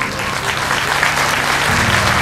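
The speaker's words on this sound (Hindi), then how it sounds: "ताली बजा के स्वागत कीजिए" Audience clapping to welcome someone at the closing of a Hindu katha religious discourse: dense, steady applause from a crowd, loud and continuous throughout, with no talk over it.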